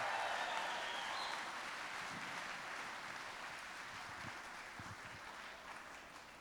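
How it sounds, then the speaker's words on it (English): Audience at an evening fundraising event applauding donors, a steady wash of many hands clapping at moderate distance that slowly fades, with no talk over it. "Let's give all three of those donors a big round of applause for kicking us off."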